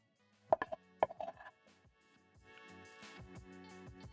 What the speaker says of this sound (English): Transfer in your onions.